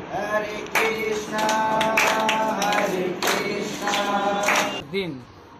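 People clap rhythmically along to a Hare Krishna kirtan at an ISKCON Jagannath temple Jhulan Yatra festival, sharp hand claps recurring under loud chanting voices.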